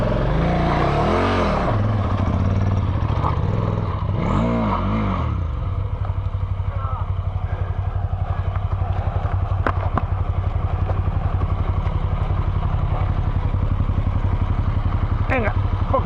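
A trail motorcycle engine climbs a rough track in the Serra do Cando. Loud revs rise and fall in waves at first, then settle into a hard, steady drone while people talk over it.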